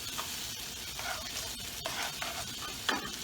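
Bell peppers and onions sizzling in a pan, a steady crackling hiss broken by occasional stirring scrapes and pops, close and moderately quiet with no talking.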